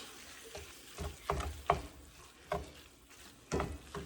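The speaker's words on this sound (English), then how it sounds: "We're just gonna mix this around." Sourdough starter being stirred into fat in a pan over medium-low heat, with a faint background hiss and a handful of soft, separate scraping strokes of a utensil spaced about a second apart.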